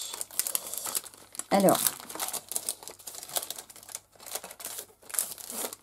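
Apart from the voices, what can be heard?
crinkling paper being unwrapped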